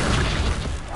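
A spell cast in the Hogwarts Legacy video game, the Accio summoning charm, lands as a loud, dense magical whoosh and boom filling the whole second with rumbling low-end weight, close and unbroken, without any voice.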